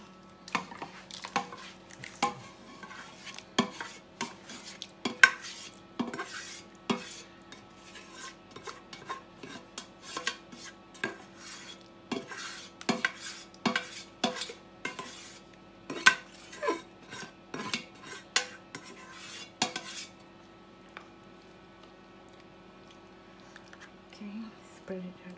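A metal spoon scrapes and taps against a pot while layering sauce and rice for mutton biryani, producing irregular clinks and wet scraping sounds that stop near the end.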